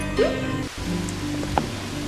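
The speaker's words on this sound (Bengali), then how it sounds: "মনে হয় বৃষ্টিটা জোরেই পড়বে" Rain falls in a Bangla film scene as a steady broadband hiss, layered under tonal music and a few soft knocks, with no talking.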